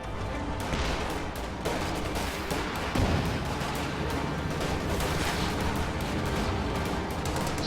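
A Stuart tank fires on Obersoldaten in a war strategy game: dense, continuous gunfire and distant artillery-like blasts form a steady, loud battle din with no speech.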